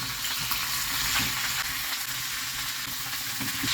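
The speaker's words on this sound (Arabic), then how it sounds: "نزلت بسمنه تسخن، وبنزل باوراق الفراخ بديها صدمه، وبقلبها على الجنب التاني" Chicken skins sizzle in hot ghee, a steady, dense crackle of frying that carries on close and loud the whole time, with faint low scraping underneath and no voices.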